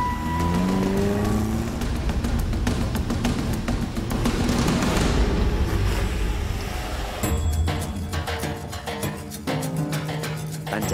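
An off-road car strains up a steep track, its engine revving hard and droning loudly and continuously with shifting pitch, close by and with no talking.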